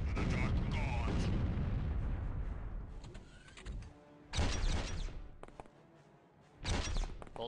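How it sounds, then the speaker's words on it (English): Bolter gunfire in OpenXcom with the Warhammer 40k mod, heavy booming bursts of shots with rumbling decay, a long opening barrage followed by two more loud blasts separated by quieter gaps. "Bolt fire coming in."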